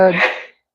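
A single short, breathy sneeze bursts out close by, then cuts off into silence.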